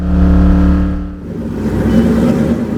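A stock car on the track at Pocono Raceway roars loudly, its engine tone holding steady and then shifting into a rougher, rising surge of acceleration.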